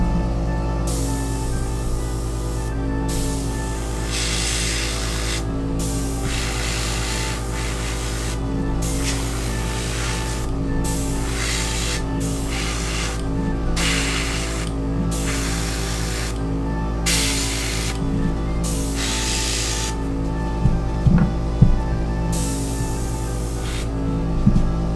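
Airbrush spraying paint onto miniatures, a steady close hiss broken into repeated bursts of a few seconds each with short gaps between, running alone without talk.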